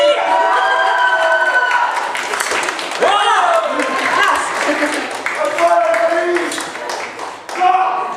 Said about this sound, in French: Ça y est, maintenant on peut applaudir